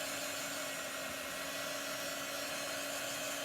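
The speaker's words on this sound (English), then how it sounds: "Or in my case I'm using a heat gun" A heat gun blows steadily while drying ink on fabric, a continuous close whooshing hum with a faint tonal whine, unbroken and alone.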